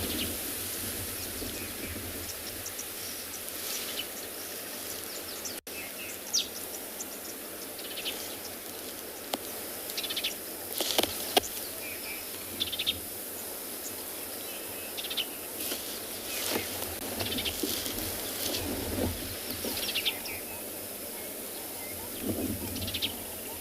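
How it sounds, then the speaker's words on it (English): Many birds call and sing in breeding season on a morning safari in South Africa, the northern grey-headed sparrow among them: a steady, busy dawn chorus of overlapping chirps and calls over a constant background hum, with no talk. "That's why all the birds are making so much noise."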